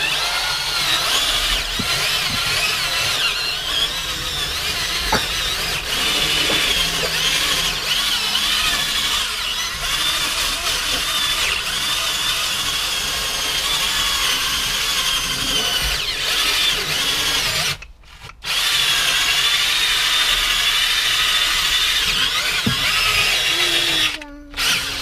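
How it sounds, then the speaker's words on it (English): A drill brush whirs continuously while scrubbing the interior of a 2017 Hyundai Elantra during detailing, with a steady high buzzing and two brief pauses near the end. "I'm going to take my drill brush."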